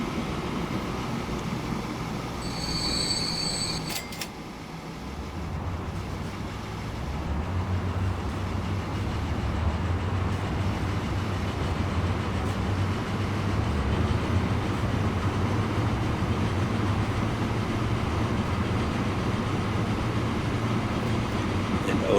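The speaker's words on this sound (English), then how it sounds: "Our train is out already." A train in the video game Transport Fever rumbles steadily with a low, continuous rolling drone, joined early by a brief chime and a few clicks, while someone talks throughout.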